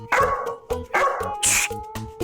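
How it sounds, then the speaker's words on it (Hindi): A dog barks in a quick series of sharp, close yaps with short gaps between them, loud and clear with no other voices over it. "खबरदार, ये बहुत ही संस्कारी कुत्ता है"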